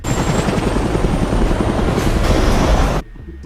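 A helicopter's loud, close rotor thump and turbine roar fill a film scene from Army of the Dead, pounding steadily for three seconds before cutting abruptly to near silence.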